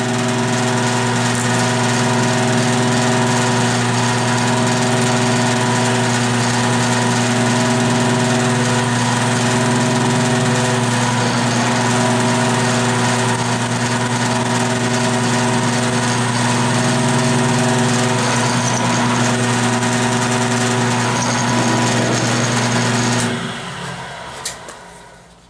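A full-length jobber drill bores through metal on a tapping fixture build, giving a loud, steady machine drone with strong sustained hum for about 23 seconds before it winds down and stops.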